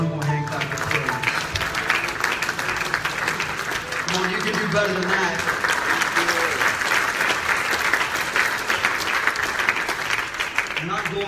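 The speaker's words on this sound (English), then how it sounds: "Give the Lord one more hand clap of praise" A chapel congregation claps in praise during a service, a dense sustained round of applause from many hands filling the room, with a voice calling out over it near the start.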